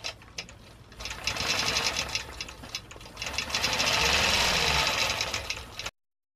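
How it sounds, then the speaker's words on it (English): A computerized quilting machine stitches out a flower pattern with a fast, continuous needle chatter that swells and holds loud and close, then cuts off abruptly. "Takes about 2 minutes to stitch out this particular flower."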